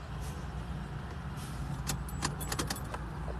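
A large truck rumbles past nearby in a low, steady drone, with light metallic jangling rattling over it and no talk.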